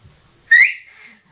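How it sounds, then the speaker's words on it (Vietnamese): One short, loud, close whistle or flute note that rises briefly, then holds and fades over about half a second, in a quiet home setting with a baby. "nghe tiếng sáo phát là giật mình nhỉ"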